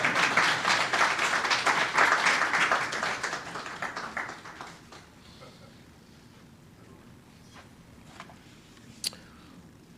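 Applause from a conference audience at a Barbados National Standards Institution event: dense, steady clapping for about four seconds that thins out and fades, leaving a quiet room with a few faint taps.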